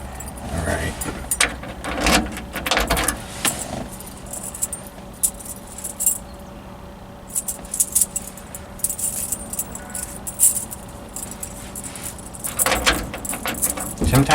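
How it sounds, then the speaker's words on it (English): A ring of keys jangles and clinks in bursts as they are handled and sorted one by one, close and loud, with quieter pauses between and occasional talk. "we'll start going through some keys"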